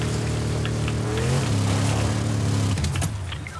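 A car engine drives steadily in the video game Fortnite, a continuous droning hum with shifting pitch, then a rougher change near the end, loud and alone.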